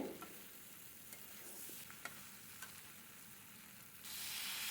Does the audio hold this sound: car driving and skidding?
no